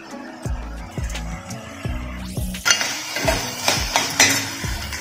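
Vegetables being stir-fried in oil over a high flame in a pan for veg Manchow soup, with repeated close metallic clanks of a spoon against the pan and a rising sizzle of frying partway through.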